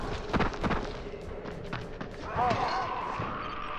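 A controlled explosion in the video game Dying Light sets off a dense, rumbling burst of booms and debris crashes that rolls on and swells again midway, with voices talking over it.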